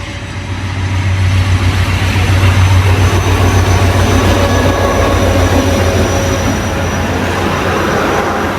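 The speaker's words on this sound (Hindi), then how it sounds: "12 डाउन हज़ारा एक्सप्रेस, सिर्फ 10 मिनट लेट" Hazara Express passenger train at Liaquatpur railway station in Pakistan, a loud, close, steady rumble of the diesel locomotive and rolling carriages with rhythmic clatter as it moves through, no talk.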